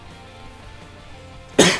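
A single short, sharp cough near the end, loud and close, following a couple of seconds of quiet background.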